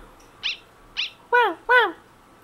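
A dog enemy from the video game Undertale barks: two short high blips followed by two louder, fuller electronic barks, evenly spaced and alone.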